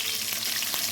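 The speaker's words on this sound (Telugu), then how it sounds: "ఉల్లిపాయలు, కొంచెం పసుపు, కొంచెం సాల్ట్ వేసి బాగా వేయించుతాం" Green chillies and spices crackling in hot oil in a pan, a steady close sizzle that runs the whole moment with no voices.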